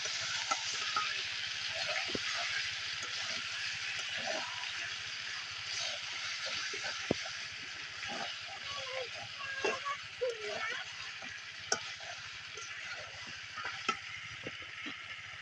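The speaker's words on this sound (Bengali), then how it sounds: "কষাইতেছি মাংস।" Meat sautéed and stirred in a pan, a steady soft sizzle with frequent scraping and clinking stirs, quiet and close, with a voice and other talk now and then.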